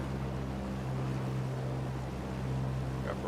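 Steady drone of a Piper Warrior engine held at 2000 RPM in a flight simulator, a constant low hum with even noise and no change in pitch throughout.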